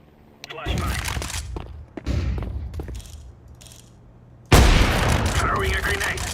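A flashbang grenade detonating in Counter-Strike 2: muffled thumps and firing early on, then a sudden loud bang followed by a sustained bright ringing hiss, with a voice speaking amid the game noise.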